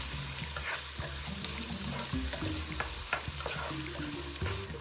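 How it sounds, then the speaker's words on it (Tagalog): Garlic and onions sizzle steadily in a hot pan while a utensil scrapes and knocks against it in an irregular stirring rhythm, close and continuous, with no voices. "Now that my garlic is a bit brown, I'm gonna add my onions."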